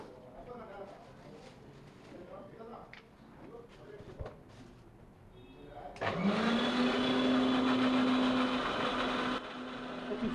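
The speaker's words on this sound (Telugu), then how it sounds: "సాల్ట్ కూడా వేసి వాటిని మిక్సీ పట్టిస్తారు" A mixer grinder blends milk with palm oil, powder and salt. Someone talks at first over faint background noise, then the motor kicks in with a loud, steady, droning whir that lasts to the end.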